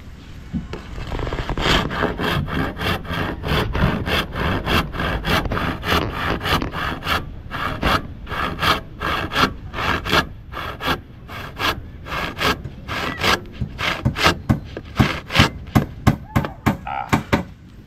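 A hand saw cuts through wood in steady, close back-and-forth strokes. The rasping rhythm continues without pause and turns into sharper, more distinct strokes toward the end.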